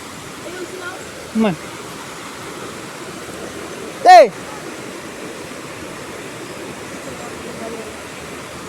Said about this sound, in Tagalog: laki yung ilog dito, mga kababayan